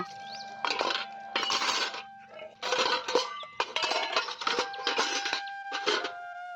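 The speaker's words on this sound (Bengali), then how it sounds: "এদিকে কলপারে এসে থালা বাসন মেজে তারপরে ধুয়ে নিচ্ছি" Dishes and pots are scrubbed and rinsed at an outdoor tap: bursts of gritty scrubbing mixed with light metallic clinks, fairly quiet and close, with short gaps between strokes and no talking.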